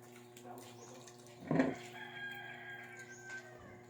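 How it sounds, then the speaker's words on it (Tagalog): A rooster crows faintly in the distance amid steady background hum, with a brief louder burst midway and soft clucking of chickens around it. "May manok sa dire."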